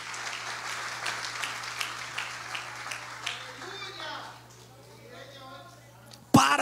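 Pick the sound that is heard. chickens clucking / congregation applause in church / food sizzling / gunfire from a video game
congregation applause in church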